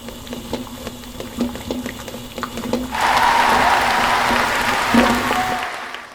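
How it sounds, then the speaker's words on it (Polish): Eggs boiling in a pot of water, a steady bubbling hiss that starts abruptly partway through, after a stretch of softer irregular clicks and knocks, then stops sharply just before the end. "gotujące się jajka"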